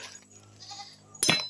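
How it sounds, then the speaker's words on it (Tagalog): A farm goat bleats once, close and sharp near the end, after a quieter stretch of steady background hum and faint outdoor noise. "Tinatawag ako ng kambing, kilala niya ako."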